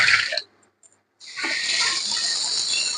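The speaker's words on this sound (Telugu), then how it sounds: "ఇప్పుడు నేను నీళ్ళు వంపేసుకుంటాను" Water is poured off from a pot while fish curry is being cooked, giving a close hissing rush. A brief gap interrupts it before the steady flow resumes.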